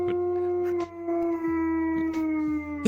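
A dog howls loudly and close up in long, sustained wavering tones with short breaks, filling the clip with no talk over it.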